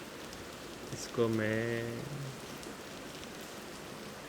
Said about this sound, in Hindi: बारिश बहुत है